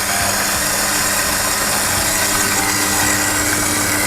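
A coffee grinder set to grind size 4 for kopi tubruk runs on beans fed through its hopper, giving a loud, steady, dense whirring roar that fills the whole stretch without pause.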